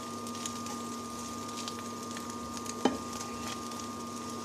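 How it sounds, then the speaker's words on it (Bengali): Minced meat fries in a pan with a low, steady sizzle under a constant kitchen hum, broken once by a sharp clink of a utensil. "আমি এবার কিমাগুলো দিয়ে দেবো।"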